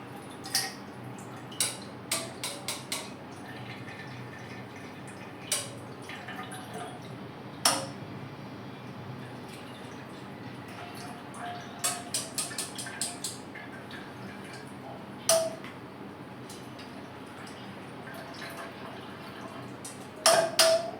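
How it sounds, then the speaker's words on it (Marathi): Water is strained for dahi vada batter in a home kitchen, giving sparse drips and small splashes and clinks of utensils at irregular intervals against a quiet background. "तर आपल्याला हे पाणी गाळून घ्यायचंय."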